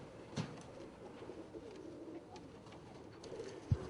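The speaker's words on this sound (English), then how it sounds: "That's the Arabian trumpeters in the neck slough." Soft, low Arabian trumpeter pigeon cooing murmurs faintly in the background, with a couple of brief louder notes amid quiet ambient noise.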